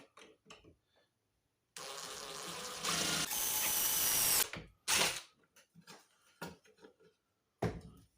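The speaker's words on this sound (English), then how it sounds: "because I can't drill very good" A power drill bores holes while a Buddy L tractor van is being built. It starts with one long, loud whirring run of about three seconds, then several shorter close bursts, with small clicks and handling noises in between.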